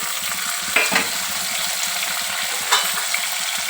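Chopped tomatoes frying in hot oil with ginger-garlic paste in a pan for fish curry, a steady broadband sizzle throughout with a couple of louder stirring scrapes, close and with no talk.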